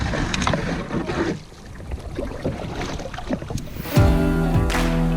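Canoe paddling on a lake in the Temagami wilderness of Ontario, with steady wind and water noise throughout and a sharper knock or splash near the end, close to the microphone.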